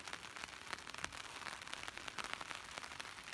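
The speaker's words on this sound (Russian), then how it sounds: "Дождик пошел." Light rain begins falling by Volchi Vorota lake in Stavropol Krai, a faint, even patter of scattered drops and soft crackles that continues throughout.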